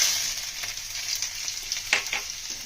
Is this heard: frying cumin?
yes